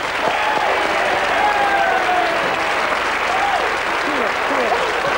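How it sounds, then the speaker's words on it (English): A television game show studio audience applauds, steady sustained clapping throughout, with a host talking over it. "Give them a nice big round of applause."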